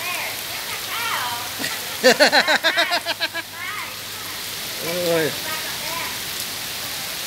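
Steady rain falls as a soft, even hiss throughout, while people talk and call out over it.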